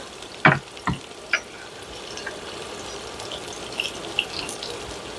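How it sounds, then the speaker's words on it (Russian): Onion goes into hot oil heated until it gives off a faint white smoke, starting with a few sharp splashing crackles before settling into a soft, steady sizzle with scattered pops. "масло нагрелось. Видите, идет нежный белый дымок. Это значит, масло готово принять лучок."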